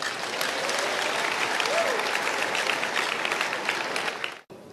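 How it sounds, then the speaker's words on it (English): A church congregation claps together during a service, loud steady applause with a brief vocal whoop partway through, then cutting off abruptly near the end. "clap for Jesus"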